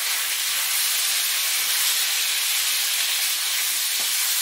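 Two cloves of roughly chopped garlic sizzle steadily in hot olive oil in a pan, a loud, even hiss that holds throughout with no talking.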